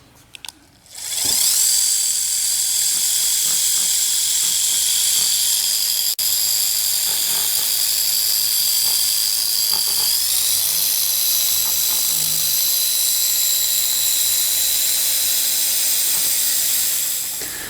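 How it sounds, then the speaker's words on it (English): A dual action polisher fitted with a 1-inch microfiber pad runs close by for an M2CS polishing job, starting after a brief knock and holding a loud, steady high whir with a slight pitch shift midway, no talking. "because I'm going dual action instead of rotary, I'm going to use a 1-inch microfiber pad"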